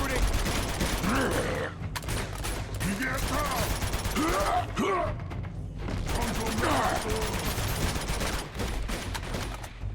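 Rapid, sustained gunfire from a firefight in the video game Uncharted 2, with dense overlapping bursts and shots running almost nonstop. Brief pauses break the fire, and voices talk over it.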